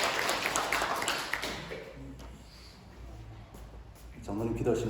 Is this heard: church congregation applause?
yes